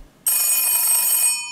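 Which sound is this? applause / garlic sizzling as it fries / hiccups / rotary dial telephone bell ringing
rotary dial telephone bell ringing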